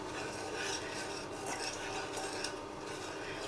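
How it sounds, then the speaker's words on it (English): A spoon scrapes and stirs as sugar is mixed into milk in a pan for a custard tart, a soft, continuous rasping rub heard close up and quiet, with no talking. "I'm going to mix the sugar into the milk until it all dissolves. You can hear it scraping."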